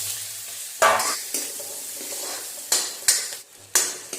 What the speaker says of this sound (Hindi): तेल गरम हो गया है, इसमें हम डालेंगे थोड़े से जीरे, इसमें डाल दी मिर्ची और ये प्याज।